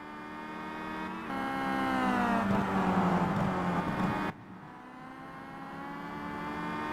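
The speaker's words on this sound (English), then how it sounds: "When you look at the race leader B13 and that orange and black BMW pulling away from the two Volvos of Luke Sky and Graf Fin" Racing car engines in the Simraceway sim racing game during a 2011 WTCC touring car race, an orange and black BMW pulling away from two Volvos; a steady loud engine whine rises in pitch, then drops abruptly as the view cuts.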